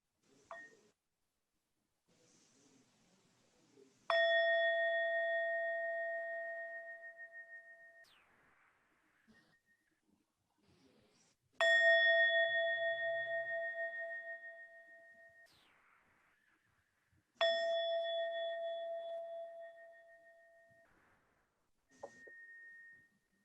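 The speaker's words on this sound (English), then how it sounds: "So what I'll do is I'll ring the bell 3 times to open up our sit" A meditation bell is struck three times at the start of a sitting. Each strike rings out clearly and sustains for several seconds before fading, with long pauses between strikes in an otherwise quiet room.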